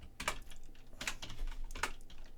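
Quick, light keystrokes clatter on a computer keyboard in short bursts while Python code is typed, close and fairly quiet.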